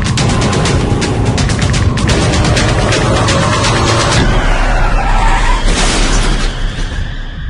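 A car brakes hard and skids during a texting-while-driving experiment, a loud, sustained roar of tire noise and rumble that fades slightly toward the end.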